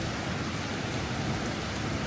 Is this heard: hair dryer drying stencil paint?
no